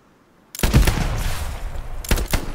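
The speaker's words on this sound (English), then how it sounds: "Doesn't notice me, so I get out my pistol." Gunfire from a pistol in a war video game bursts in after a moment of near silence, a quick volley of loud close shots with booming rumble, then another burst near the end.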